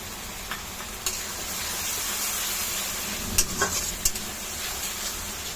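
A paste of tomato, dry chilli and garlic frying in a pan as it cooks for a bitter gourd curry, giving a steady, close sizzle with a few sharp scrapes and clinks of stirring partway through.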